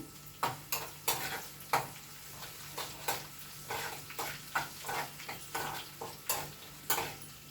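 Curry leaves fry in hot oil for mango pulihora. Faint, steady sizzling runs underneath a string of sharp clinks and stirring taps from a spatula on the pan, about two a second.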